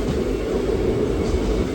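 Passenger train 54551 on the Ambala Cantt–Bathinda route rolls in at platform 2 with a steady, moderately loud rumbling drone of wheels and carriages, with no voices.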